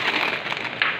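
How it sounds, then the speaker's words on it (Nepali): Wai Wai instant noodles boil in a pot of water with a soft, continuous bubbling crackle, close and fairly quiet over about a second. "ल गाइस यता चाहिँ चौचौ उम्लिरहेको छ।"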